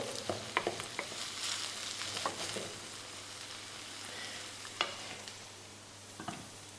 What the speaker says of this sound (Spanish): Que esta cebolla necesita unos minutos para pocharse bien.